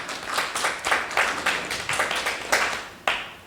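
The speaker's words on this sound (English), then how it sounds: "Now you clap for me" An audience at a candidates' forum claps in short bursts, a fairly close, uneven patter that swells and fades in several waves, with no talking.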